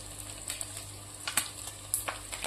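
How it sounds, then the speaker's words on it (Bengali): Fish frying in hot oil in a frying pan, a close, steady sizzle broken by a few sharp crackling spits. "তো এই যে মাছগুলোকে ভেজে নিয়েছি"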